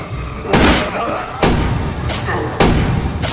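Three loud, booming pistol shots from a zombie film, spaced about a second apart, each a sharp blast trailing into a short echoing decay over a low background rumble.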